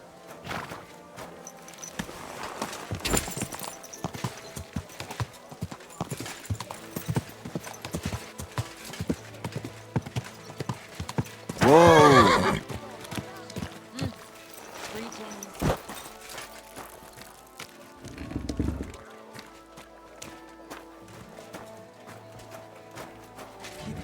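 Hooves of a horse in the video game Kingdom Come: Deliverance 2, clopping in irregular steps with a short loud burst and a snort partway through, under game dialogue and ambient sound.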